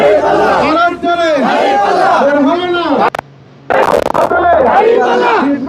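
A large crowd at a political rally in Kushtia shouts the takbir, Allahu Akbar, in loud, forceful chanted waves with many voices together, broken by a short hush before the chanting resumes.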